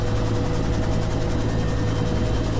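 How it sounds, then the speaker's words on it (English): A rescue helicopter's rotor and engine drone loudly and steadily at close range, a continuous dense roar with no voices over it. "For audio listeners, it's a helicopter."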